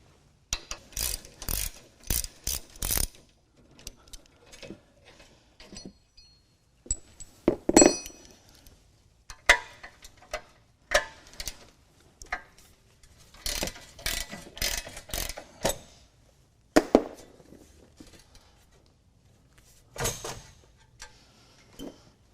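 A ratchet wrench works loose the tow hook and bumper bolts on a Jeep YJ, giving close, loud bursts of rapid clicking separated by short pauses and occasional metallic clinks.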